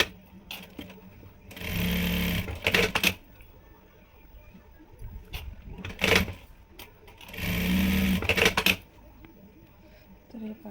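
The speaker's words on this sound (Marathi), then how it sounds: "टीप मारून घ्यायचं आहे।" A sewing machine stitches a dress made from a saree in two loud, steady bursts of about one and a half seconds each, separated by quieter handling noises and soft background sounds.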